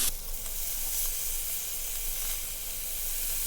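Filet mignon searing in oil in a hot pan: a steady, close sizzle and crackle of frying with no pause and no voices.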